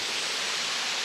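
King George Falls roars as a steady, unbroken rush of falling water, loud and close.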